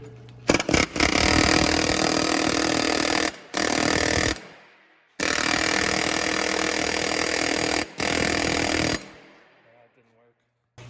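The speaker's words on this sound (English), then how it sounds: "what I'm going to try to do today is use the air hammer" An air hammer with a socket attachment, driving at a 2012 Toyota Matrix front wheel bearing, fires in loud, harsh bursts several seconds long, broken by short gaps and ending in a quieter tail.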